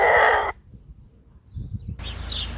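A cockerel lets out one loud, harsh burst of a danger warning call lasting about half a second, followed by a pause and then quieter, softer calling and rustling nearby.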